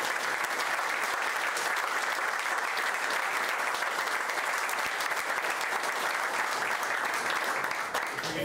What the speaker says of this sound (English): If you would give them all an applause